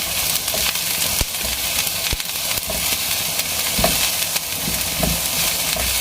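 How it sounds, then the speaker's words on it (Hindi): Onions sizzle and fry in a pan with garlic, a steady broad crackle filling the whole stretch, with occasional stirring knocks from a utensil. "अब हम इसमें ये अपने प्याज डाल देते हैं। इनको हल्का सा फ्राई कर लेंगे।"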